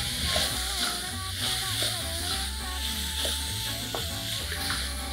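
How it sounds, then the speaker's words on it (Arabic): Onion and celery sautéing in butter with a little oil, a steady close sizzle with faint stirring scrapes running throughout, no talk. "البصل والكرفس في الزبدة اللي عليها شوية زيت عشان ما تتحرقش"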